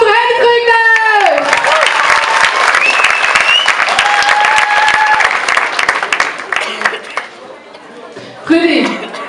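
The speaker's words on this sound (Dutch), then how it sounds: "En applaus voor Heidevreugde!" Audience applause at a playback show breaks out after a spoken introduction, dense clapping and crowd noise sustained for several seconds before tapering, with a voice returning at the end.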